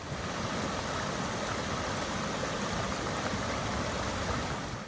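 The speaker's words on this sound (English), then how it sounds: "And the waterfall's right there." A waterfall pours into a lake by a portage near a dam, a dense, steady roar of rushing water filling the whole stretch at close range with no voices.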